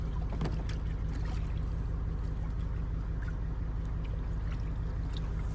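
A boat being poled through water with wooden poles, giving a steady, loud wash of water and movement noise with scattered knocks and splashes throughout.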